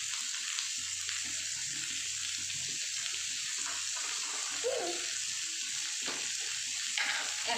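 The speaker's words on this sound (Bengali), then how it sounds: "এখানে 1 চামচ গোটা জিরে দিয়ে দিলাম।" Whole cumin seeds sizzling in hot oil for chicken curry, a continuous dense hiss and crackle that stays steady and close throughout, with no talking.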